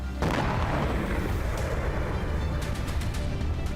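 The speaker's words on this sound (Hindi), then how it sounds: "बलोच लड़ाकों ने सेना की गाड़ी में धमाका कर उसे उड़ा डाला" An explosion destroying an army vehicle in Balochistan booms and then rumbles on in a sustained low roar, dense and loud throughout, with faint crackles near the end.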